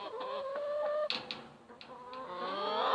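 Hens cluck and trill continuously nearby, a layered, droning chorus broken by a few sharp clucks, loud and steady throughout.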